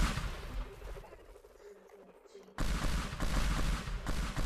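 Video game combat with explosives and gunfire, dense bursts of shots and blasts, quieter at first and then breaking into loud continuous fire.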